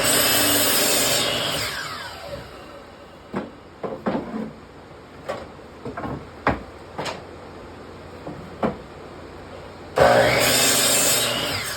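Hand saw cutting 1x6 wood boards for a wine rack, a brief burst of sawing at the start, then a series of sharp knocks and clunks of boards being moved and clamped, and another sawing burst near the end.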